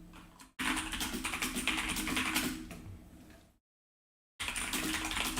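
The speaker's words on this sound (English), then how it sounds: "There's gonna be a lot of keyboard ASMR in this live stream." Rapid computer keyboard typing during a live stream, dense clattering keystrokes close to the microphone, cut by a brief silent gap before resuming.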